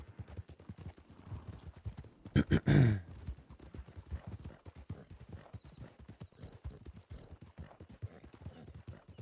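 Video-game horse hooves clip-clop in a steady, brisk rhythm throughout, briefly interrupted by a loud, rough burst like a horse snorting.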